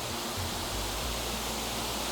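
Steady broadband rush of a waterfall, a dense continuous roar with no breaks, heard alone without any talking.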